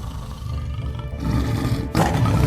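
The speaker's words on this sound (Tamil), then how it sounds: "புலியோட சத்தம் கேக்குது." A tiger roars loudly and close in a Tenali Raman television episode, a rough, rumbling growl that swells and then bursts into a sharper, fuller roar.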